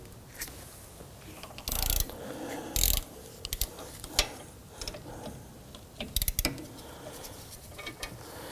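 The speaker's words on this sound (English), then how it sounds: "I'm going to use my ratchet to get in here" Ratchet with socket and extension working on a 2005-2009 Subaru Legacy front steering knuckle, close rapid clicking bursts mixed with scraping metal knocks and short louder clanks, irregular and fairly quiet.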